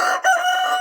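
A laying hen lets out a brief, close call: a short note, a split-second break, then a sustained tonal squawk.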